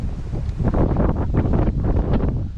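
Strong wind buffets the microphone on a boat during crappie jig fishing, a steady loud roar with gusty rumbling throughout and no talk.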